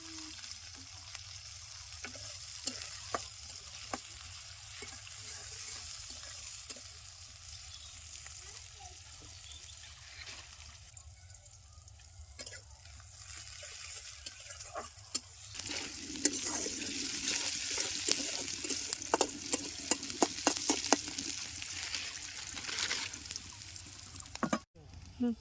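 Pointed gourd and bata fish fry in hot oil in a home kitchen, a steady sizzle broken by scraping stirs that grows louder and busier in the second half, with faint voices in the background.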